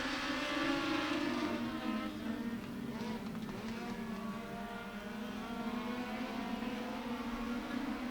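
Legends race cars roar down the front straightaway of Beckley Motor Speedway, three wide in a heat race, a sustained distant engine drone that holds steady with a slight rise and fall throughout.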